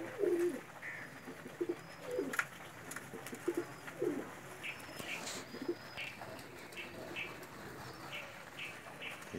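Kasuri breeder pigeons, a male and female pair, coo softly in repeated rhythmic phrases with occasional wing flutters, fairly close and quiet, with no talking.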